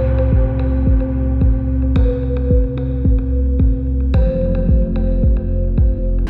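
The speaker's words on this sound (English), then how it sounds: "So engraving on thermos, perfect shining stainless steel. Minimum speed and full power." A 10-watt laser module mounted on a 3D printer engraves a shiny stainless steel thermos at minimum speed and full power, giving a steady low motor hum punctuated by regular ticking pulses.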